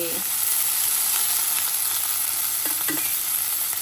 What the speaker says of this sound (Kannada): ಬಾಂಡ್ಲಿಗೆ ಈಗ ಎಣ್ಣೆ ಹಾಕ್ತಾ ಇದ್ದೀನಿ